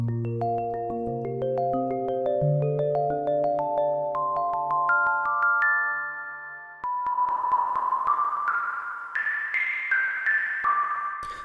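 A synthesizer patch called OmniChill plays a slow rising sequence of overlapping tones, soft and bell-like at first, then brighter with a breathy, noisy edge on higher notes.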